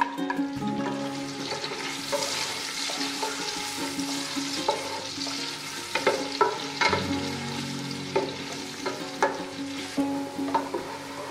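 Onions sizzle and crackle steadily in a hot pan, with occasional stirring scrapes and pops close by.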